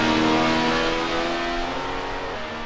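Race car engine on a timed lap, a steady loud drone with harmonic tones holding near and constant throughout, no voices.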